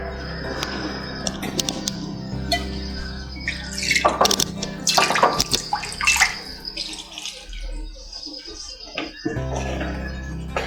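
Water is poured into a pot of pumpkin sambar while cooking, a splashing, gurgling pour that swells mid-clip, with clinks of utensils and a low kitchen hum.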